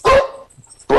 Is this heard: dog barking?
yes